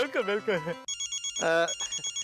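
A telephone rings in a repeating electronic ringtone of short, evenly spaced pulses, starting right after a person talks and continuing loud and close.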